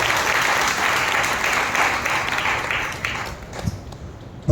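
Loud, sustained applause from a church congregation at a Sunday worship service in Nellore, a dense wash of clapping that fills most of the clip before thinning toward the end.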